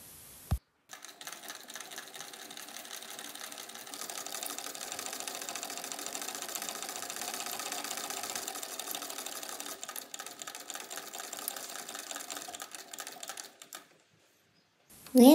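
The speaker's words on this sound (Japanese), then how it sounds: "ざーっと縫います。" A sewing machine runs in one long steady burst, stitching a towel neck cooler cover made from a tenugui-style towel, with a loud continuous mechanical whir that stops near the end.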